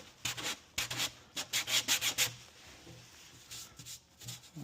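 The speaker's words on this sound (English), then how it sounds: "So I will sand that out a little bit." Plastic wood patch on an MDF cabinet drawer front being sanded by hand: quick rubbing strokes in a burst of about eight, then a pause and a few softer, scattered strokes, close and fairly quiet.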